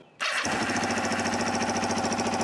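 A Kawasaki Ninja 500 motorcycle engine cranks and catches almost instantly, then settles into a loud, rapid, buzzing idle with a steady pulsing rhythm, close and alone.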